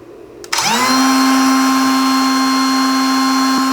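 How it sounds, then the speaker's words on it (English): A cordless brushless router mounted on a CNC machine spins up abruptly after a quiet start, then holds a loud, steady high-pitched whine at constant speed. "now I've got the cordless router mounted on the CNC machine"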